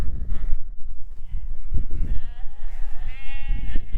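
Lambs and sheep in a pen bleat over one another, with several overlapping calls at close range, loud and continuous, against a low rumbling background.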